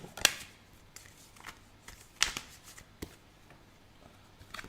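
Oracle cards are shuffled by hand in a few quick riffling bursts separated by short pauses, close and fairly quiet, with no talking.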